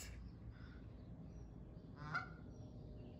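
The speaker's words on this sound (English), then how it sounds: "There's another goose." A goose outdoors near a house gives a single honk partway through against a steady low background rumble, moderately distant and alone with no talk.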